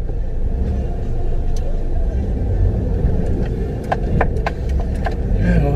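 A car being turned around, its engine rumbling steadily at close range with a few knocks and creaks as it manoeuvres, while a voice speaks faintly in the background.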